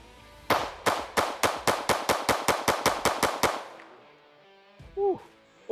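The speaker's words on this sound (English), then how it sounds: "So let's shoot this pistol now." About fourteen sharp pistol shots ring out in a fast, even string at an outdoor shooting range, fired from a compact everyday-carry handgun such as a Sig X-Macro, Hellcat Pro Comp or CR920, followed by near silence and a brief faint sound.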